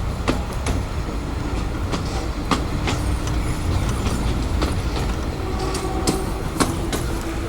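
A narrow gauge passenger train on the Bilimora to Waghai line rumbles steadily along its rails, with repeated sharp clicks and clanks from the wheels over rail joints and no talking.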